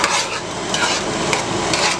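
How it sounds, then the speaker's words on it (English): A pot of rice and beans is stirred over low heat, the spoon scraping along the bottom in steady, close strokes with a soft sizzle underneath and no voices. "We are going to give it a really good stir, making certain to scrape up the bottom."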